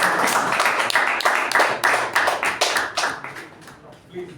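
A small audience at a Toastmasters meeting gives a round of applause, close, sharp claps in an uneven rhythm, fairly loud and tapering off near the end, with a voice faintly underneath.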